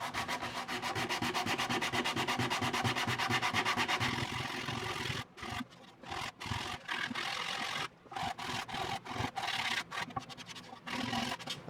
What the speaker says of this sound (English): I'll probably switch over to the sandpaper now because I'm getting pretty close